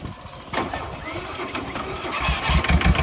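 An Iseki TS2510 power-steering tractor engine starts up and settles into a soft, rough idle, close and moderately loud, with some background voices and stirring.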